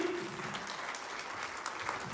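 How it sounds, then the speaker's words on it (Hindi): Applause from an audience at a company marketing event, a steady dense patter of many hands clapping together, fairly distant and sustained for the whole moment with a faint voice underneath. "एक बार जोरदार तालियां।"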